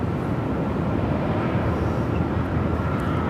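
A Southwest Boeing 737 MAX 8 airliner on its takeoff run at Phoenix Sky Harbor, a loud, steady broadband roar of jet engines holding constant throughout, with no voices.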